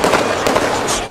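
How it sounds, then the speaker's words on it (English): Several gunshots ring out close by at a protest with police present, sharp loud cracks in quick succession over a busy, noisy crowd backdrop. "Multiple gunshots not far from protesters and police"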